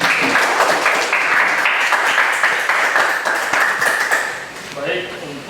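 A class gives a round of clapping in a lesson, dense and continuous for several seconds with voices mixed in, fading out near the end.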